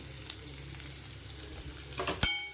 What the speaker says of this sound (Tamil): நான் சின்ன வெங்காயம் தான் போடுவேன். நல்லா வதங்கணும். வதங்கிடுச்சு.